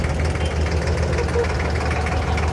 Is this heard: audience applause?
no